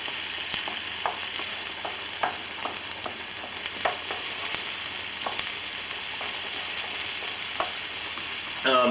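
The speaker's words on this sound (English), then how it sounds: "Chuck in 2/3 of that mushroom and just let it cook down a little bit." Mushrooms frying in a pan, a steady close hiss and crackle running throughout with small intermittent pops and a few light utensil taps, no voices.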